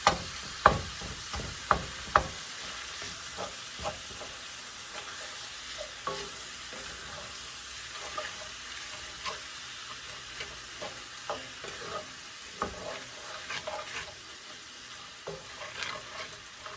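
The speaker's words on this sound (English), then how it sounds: "We're just going to cook this till there's no more pink in the beef." Ground beef sizzles in a frying pan while a utensil repeatedly scrapes and knocks against it, breaking up the meat in an irregular rhythm of sharp taps over steady frying.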